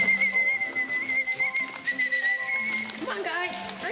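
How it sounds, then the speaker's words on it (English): A sustained high whistle blown to call trained penguins on a film set, held steadily for about three seconds then trailing off, mixed with background voices and other sounds. "What we've trained the birds to do is to come to a call, a whistle."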